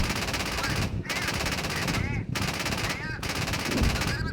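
Sustained rapid autocannon fire of HEAT rounds from a Marder A1 in a video game rattles on continuously with brief pauses, loud and close, dense mechanical bursts throughout.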